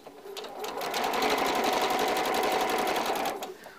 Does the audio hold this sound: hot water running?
no